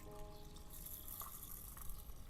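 Water runs into a vessel of mixed lentils (chana, toor, masoor and moong dal) with rice and peanuts for soaking, a faint, continuous trickling fill with no speech.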